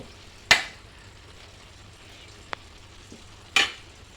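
Chicken biryani rice is stirred in a pot with a spoon: two distinct scraping scuffs and a faint tap between them, quiet and close, with no talking.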